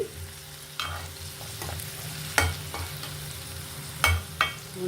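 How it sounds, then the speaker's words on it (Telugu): Indian gooseberries (amla) fry in a pan with a soft, steady sizzle, broken by several sharp scrapes and knocks as a spatula stirs them. "ఉసిరికాయలు వేగిపోయాయి మనకి ఇలా కలర్ వస్తే సరిపోద్ది"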